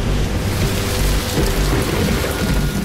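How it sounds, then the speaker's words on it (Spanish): Torrential rain pours steadily over the hills of Thebes, with deep thunder rumbling continuously underneath, a loud, dense, unbroken wash of storm noise with no voices. "la humedad cae en forma de lluvia torrencial"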